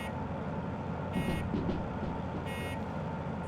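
Locomotive bell in the Derail Valley train simulator, sounding more like a buzzer: two short tonal bursts about a second apart over a steady low engine rumble, with no talk.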